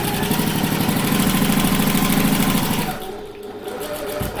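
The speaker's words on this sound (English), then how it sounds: "Now I'll sew using my regular stitch length" A sewing machine runs a steady rapid stitch along a handbag seam at regular stitch length, close and continuous, then the motor winds down and pauses briefly before a soft restart.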